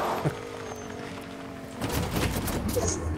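Gunshots in the video game Fortnite arrive as a cluster of rapid, fairly faint pops and cracks in the second half, following a quieter stretch of droning game ambience.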